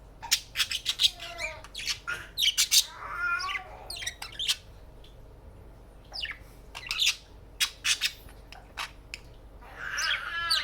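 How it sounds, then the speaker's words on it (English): Pet budgie chirping and squawking in rapid, irregular bursts of bright high calls, close and fairly loud, with brief pauses between flurries and no talk. "Look at that handsome bird."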